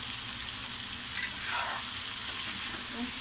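Chicken pieces frying in a pan until golden brown for pinakbet, a steady close sizzle with bubbling crackle that holds at an even level throughout, no talking.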